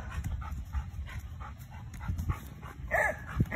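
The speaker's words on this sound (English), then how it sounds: "Your beagle friends like to talk, don't they?" Beagles vocalise nearby outdoors, panting and snuffling with soft whimpers before a short yipping howl near the end, fairly faint overall.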